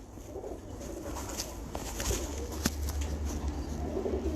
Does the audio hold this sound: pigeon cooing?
yes